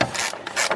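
A ratchet wrench loosening a bolt on a BMW 745i starter, a short burst of quick metallic clicks close by.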